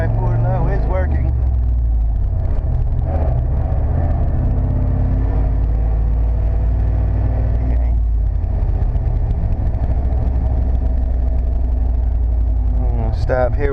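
1995 Chevrolet C/K 1500 4x4 5-speed stepside pickup driving slowly in 4x4 low, a steady deep engine and drivetrain rumble heard from inside the cab, with brief bits of voice at the start and end.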